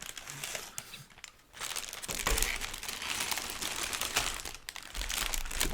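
Crinkly plastic rustling and crackling as a Lego packaging bag is pulled open by hand, close up, with a brief quieter pause before louder crumpling continues.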